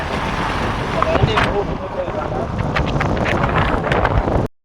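Steady sea wind buffets the microphone with a rough, continuous roar beside the sea, while people talk underneath; it cuts off abruptly at the end.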